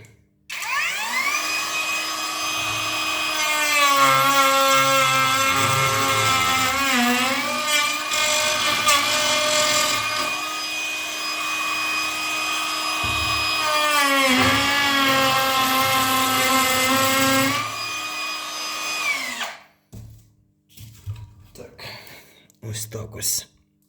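A cordless router from AliExpress running on a DeWalt battery at fourth speed whines loudly and steadily for about eighteen seconds, its pitch dipping briefly as it cuts, then spins down and stops; voices talk faintly around it.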